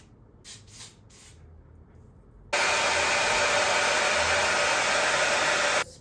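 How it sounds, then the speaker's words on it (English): A long, steady spray hiss of hair spritz starts abruptly after a few quiet, faint sounds and holds loud and close for over three seconds before cutting off. "Going in with the spritz."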